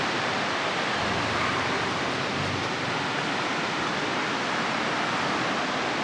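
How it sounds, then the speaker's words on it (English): River rapids rush below a mountain trail on a trek toward Machu Picchu, a constant broadband hiss of flowing water, steady and unbroken throughout. "You can hear the river."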